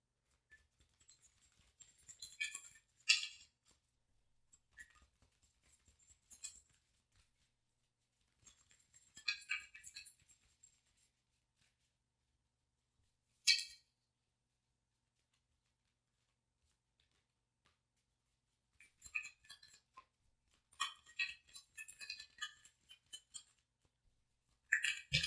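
Tarot cards are shuffled in quiet, irregular bursts of soft crisp riffling and patting, close but faint, separated by long silent pauses.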